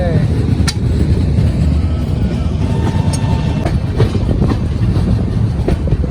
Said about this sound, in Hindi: 1023 किलोमीटर का डिस्टेंस कवर करने के बाद ट्रेन पहुंच गई मेरठ सिटी जंक्शन